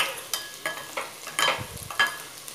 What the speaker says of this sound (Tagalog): ilagay na natin itong miso